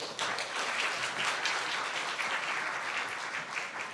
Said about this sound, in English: Big applause for Stefania.